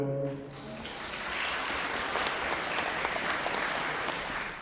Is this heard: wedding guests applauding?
yes